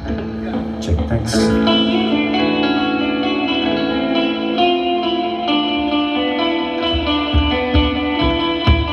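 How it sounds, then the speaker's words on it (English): Microphone check at a live music venue with reverb applied, a voice running through a wet, echoing effect over a sustained, dense musical wash, loud and continuous throughout. "Get some more reverb, a little bit more."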